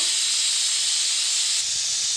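A loud, continuous hiss of steam escaping under pressure from a pressure cooker whistle, steady for the whole stretch.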